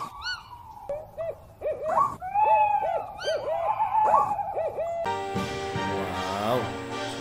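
Electronic owl hoots and warbling calls ring out from an owl character toy box, repeated in quick bursts, followed by a brighter, jingly electronic tune.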